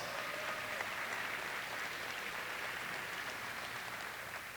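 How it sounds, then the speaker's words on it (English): An audience at a high school athletic signing day claps together, a steady, somewhat distant wash of applause that holds evenly throughout. "give these people a round of applause"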